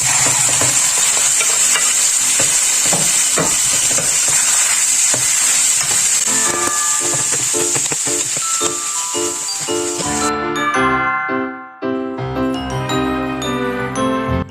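Beef and onion stir-fry with garlic in a pan, hissing and sizzling loudly and steadily, with frequent scraping stirs, until the sizzle cuts off abruptly near the end while tinkling music plays.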